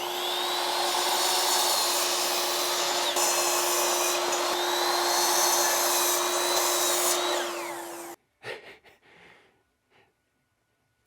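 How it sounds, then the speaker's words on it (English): A power saw cuts through wood with a loud, steady, high whine that runs unbroken for about eight seconds, then cuts off, followed by a few faint clatters and silence. "I'm done with this saw"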